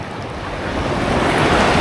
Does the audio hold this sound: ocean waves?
yes